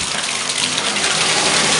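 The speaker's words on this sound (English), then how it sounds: "So you turn on the water and you can't vary the volume here." Water running at full pressure from an old shower tap, a loud, steady rushing hiss with no pauses and no voices.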